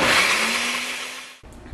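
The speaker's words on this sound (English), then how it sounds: "I guess I was being too noisy for them with the blender." A kitchen blender runs loud and whirring, blending a pesto-like mix with cheese, basil, lemon and garlic, its motor pitch steady before winding down and cutting off abruptly near the end.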